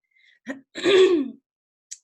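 A single close throat clearing, a short rough rasp lasting under a second, followed by a faint breath.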